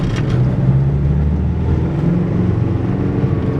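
A Nissan D40 Navara engine with a suspect MAF sensor drones steadily and loudly close by under throttle, a continuous low rumble that holds without a clear rise in pitch.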